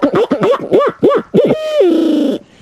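A person mimics an owl's springtime laughing call: a run of short, loud rising-falling hoots followed by a drawn-out wavering note, close and alone with no other sound.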